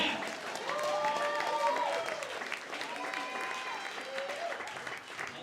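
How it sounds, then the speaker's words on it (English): Audience applauding a live band at a poetry-and-music show, steady clapping and cheering that holds for several seconds, moderately distant, while a host talks over it. "Another round of applause"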